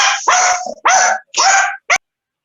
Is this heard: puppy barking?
yes